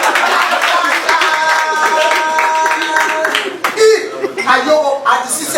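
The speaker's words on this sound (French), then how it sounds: "Applaudissez pour lui." An audience at an inauguration ceremony claps and applauds, mixed with loud speech and background music, with some sharp individual claps toward the end.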